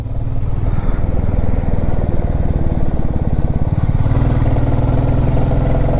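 A motorcycle engine chugs steadily up close while being ridden along a hill road of hairpin bends, a loud, even, throbbing drone that barely changes in pitch, with rushing wind noise mixed in and no voices.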